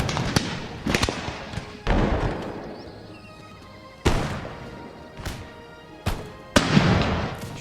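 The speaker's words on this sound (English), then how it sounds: "get those cannon shots into them" Cannon fire in Empire: Total War during a battle at an Indian fort, a series of loud, sharp booming shots at irregular intervals, each followed by a rumbling decay with battle ambience in between.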